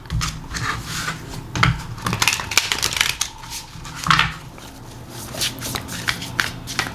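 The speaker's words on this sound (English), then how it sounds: "we're going to give this a good shuffle before we draw all of the cards" A deck of tarot cards is shuffled by hand close up, a run of quick riffling and sliding bursts with soft taps between them and brief pauses, no voices.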